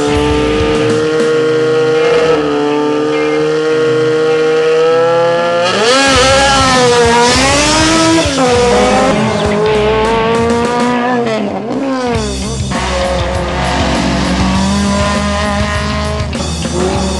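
Race cars in free practice at the Biot hill climb roar past one after another, loud engines revving and rising in pitch through gear changes, with a close pass around the middle and another car accelerating near the end, continuous and without talk.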